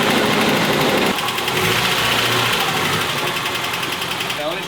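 A car engine idles with a loud lifter tick, after fresh oil pressure sender work and a Seafoam oil treatment, giving a close, steady rumble with a fast metallic ticking running through it.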